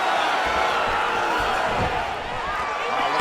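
A video-game crowd at an EA Sports UFC 5 bout, Manel Kape vs Henry Cejudo, applauds and cheers steadily after a grappling exchange, a dense, loud wash of clapping and crowd noise throughout.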